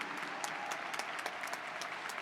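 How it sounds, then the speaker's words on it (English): A graduation audience at Portland State University's 2022 commencement bursts into sustained, dense applause, an even crowd of clapping with no voices over it. "Let's applaud that"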